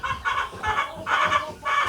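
Gamefowl hens, laying hens from a Red game farm line, cluck in repeated bursts, fairly close and steady with short pauses between calls, over light background noise.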